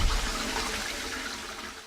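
A toilet built on a beach flushes a hot dog away with a loud, rushing swirl of water that fades slightly as it drains.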